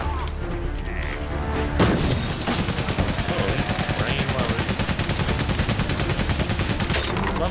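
WWI machine gun fire in the trench warfare game Valiant Hearts chatters in a steady, loud rhythmic burst that runs for several seconds after an initial boom, with a voice briefly speaking underneath.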